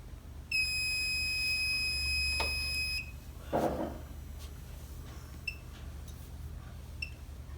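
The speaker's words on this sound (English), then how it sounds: "you get a low water alarm" Low water alarm on a shipboard oily water separator, a high electronic beep-tone sounding steadily for a few seconds, followed by a thump and fainter short beeps in a quiet machinery space.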